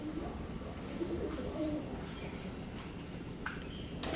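Soft cooing of a white pigeon, low and murmuring, repeats over a steady bed of background noise, with a brief shuffle near the end.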